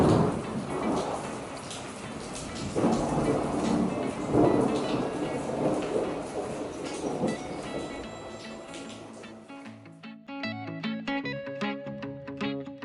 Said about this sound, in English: Oh, that was thunder.